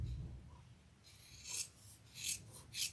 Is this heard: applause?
no